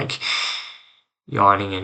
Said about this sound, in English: I'm talking so much, I'm like yawning